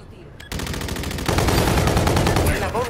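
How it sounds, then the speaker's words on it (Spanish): Sustained rapid gunfire from the shooter game Call of Duty Infinite Warfare in competitive multiplayer, bursting in loud after a brief quieter lead-in and growing denser and heavier midway, with a voice faintly under the shots. "Me disparan."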